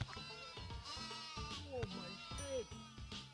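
Repeated sheep bleats in the Shrek Extra Large video game, several wavering cries at close range spread across the clip over a busy background of game music.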